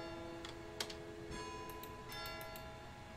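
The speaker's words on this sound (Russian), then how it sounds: "Ой, часы пробили. Ровно 10" A clock strikes in the video game Layers of Fear, its bell-like tones ringing steadily over a low background hum, with soft ticking accents spread through the moment.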